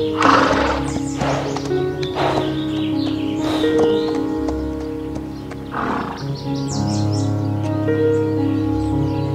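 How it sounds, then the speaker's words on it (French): Horses recorded for a sound library: several neighs and whinnies rising over a continuous tonal music bed, with soft snorts and movement between calls. "je me suis servi de la banque de sons Horses de Boom"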